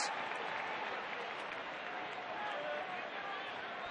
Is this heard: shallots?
no